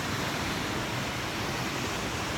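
A waterfall near a natural bridge in a misty, rainy forest gives a steady, dense rush of falling water, loud and even throughout with no voices.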